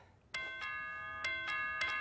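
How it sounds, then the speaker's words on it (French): A doorbell chimes in a quiet indoor room, four bright ringing tones sounding in quick succession, each with a clear decaying ring. "Exactement le bruit des cloches quand elles carillonnent en plein ciel."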